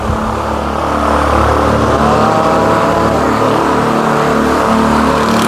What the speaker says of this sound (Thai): เป็นเรือนะครับ